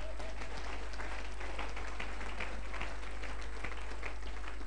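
A church congregation at a live Land of Oil Prophetic Ministry service claps steadily together, a moderately distant, even patter of hands over a constant low electrical hum.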